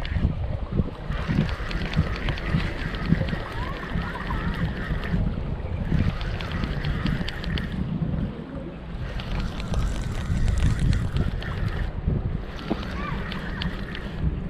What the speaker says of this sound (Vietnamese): Quá gió rồi.